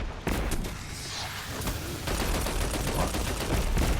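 Sustained auto rifle gunfire from a Destiny 2 firefight, a dense, continuous rattle of rapid shots with booming bursts layered in, loud and close throughout with no talking.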